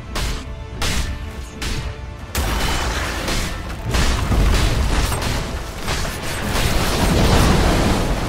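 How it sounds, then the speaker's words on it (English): A Dota 2 tower collapsing: a few short impacts open, then a loud, sustained rumbling crash and roar of crumbling structure rolls on for several seconds with booming low end. "Dire's top tower has fallen."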